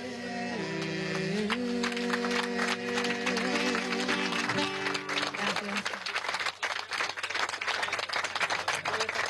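Applause at a Venezuelan government event handing out Hogares de la Patria social mission cards, a crowd clapping loudly and continuously, first under a man's amplified speech and then as dense, lively clapping on its own.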